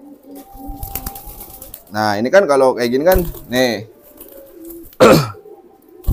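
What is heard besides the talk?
pigeon cooing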